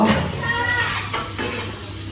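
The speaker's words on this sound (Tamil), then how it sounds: "முட்டை அடிச்சு விடுவோம்" Eggs being beaten in a bowl for an anchovy dish, a quick clattering whisking close by over a faint background sizzle, no talking.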